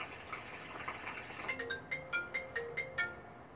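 A phone ringtone plays alone, a bright melodic chime of about eight evenly spaced notes that grows louder partway through and repeats in a quick regular rhythm over a quiet room background.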